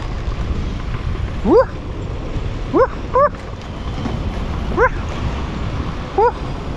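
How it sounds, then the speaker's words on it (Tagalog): A dog barks noisily at night, about five short, sharp yelping barks spaced irregularly over a steady background hum, with no one speaking. "Ingay na aso yan."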